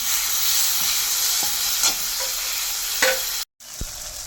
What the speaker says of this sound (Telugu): టమాటా కూడా చక్కగా ఈ 2 కలిపి వేపుకోవాలండి.